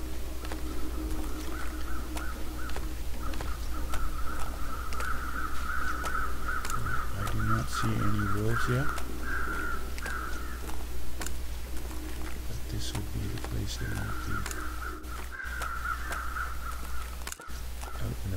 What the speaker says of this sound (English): Oh, there's some crows over there.